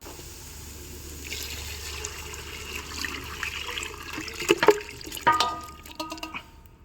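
Hot water pours steadily into a pot of chicken curry cooking over a wood-fired stove, then gives way to clattering and splashing near the end, with a low hum underneath.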